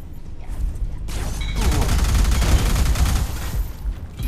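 Rapid automatic gunfire and heavy impacts from the sci-fi shooter game Alien Rage Unlimited, loud and continuous bursts after a quieter opening second, with mechanical clanks and no talking.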